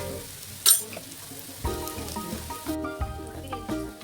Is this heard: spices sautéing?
yes